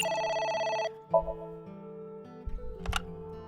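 Telephone ringing in the video game AI: The Somnium Files, a bright electronic ring for about a second, followed by quieter game music tones and a couple of soft thumps.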